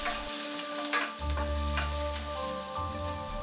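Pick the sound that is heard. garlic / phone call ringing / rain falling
garlic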